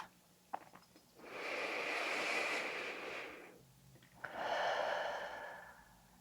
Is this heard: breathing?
yes